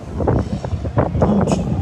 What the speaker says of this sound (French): il y a un vent à décorner les cocus